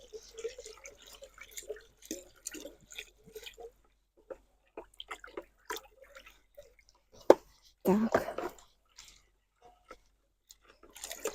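Blue garden spray mixture being stirred into water until it dissolves, with faint liquid swishes and drips that swell into a louder sloshing burst near the end.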